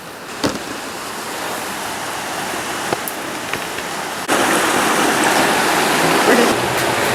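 Creek water runs steadily as a broad, close rushing wash beside high weeds near a culvert, with a few small knocks and a jump to louder flow partway through.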